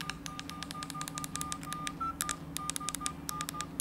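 Rapid series of keypad beeps from button presses on a 2004 Nokia N-Gage QD gaming phone, each tone short and crisp in an irregular run of about two dozen presses over a faint background hiss.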